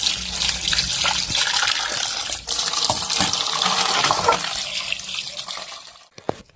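Tap water running steadily while fish are rinsed, a close continuous splashing gush with small clatters, cutting off near the end.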